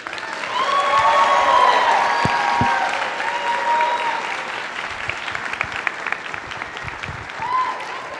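Broad applause from a graduation audience for the class of 2022, swelling early and then continuing steadily, with voices and cheering mixed in.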